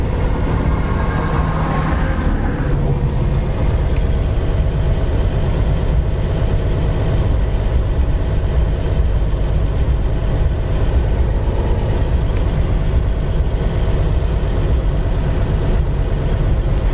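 A 1929 Chevrolet with about 52,000 miles on the odometer drives down a road, its old engine giving a steady, loud low drone with road and wind noise throughout, a brief higher whine fading in the first few seconds.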